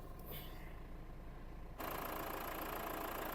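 A 2017 Renault Megane 4 with a 1.5 dCi K9K diesel engine of 110 hp ticks over at idle, faint and steady, then turns abruptly louder and noisier partway through and holds that level.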